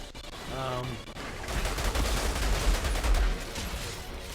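Rapid bursts of assault rifle or LMG gunfire in the video game Outriders, loud, dense automatic shots rattling continuously after a brief spoken moment at the start.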